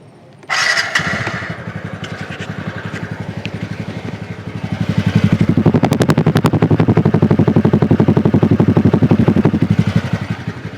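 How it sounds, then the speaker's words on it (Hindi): A TVS NtorQ 125 Race Edition BS6 scooter starts up close by and settles into a steady puttering exhaust idle, with a brief rev midway and a rapid, even beat throughout. "तो ये इसकी एग्जॉस्ट की साउंड थी"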